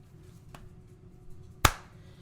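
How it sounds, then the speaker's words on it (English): One sharp, loud hand clap cracks out in a quiet room at the St. Augustine Lighthouse, preceded by a much fainter tap, with near-silence around both. "Clap whenever you want to start again."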